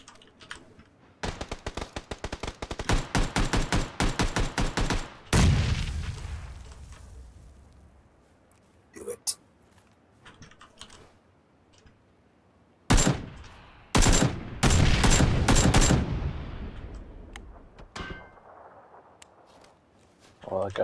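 Suppressed gunfire in a battle-royale style shooter: rapid strings of muffled shots in bursts near the start and again later, separated by a loud heavier blast and quieter gaps, with a player talking at times.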